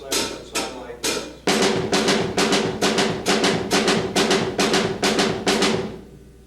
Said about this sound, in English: I can also play the hi-hat on all 4 of these chords using my entire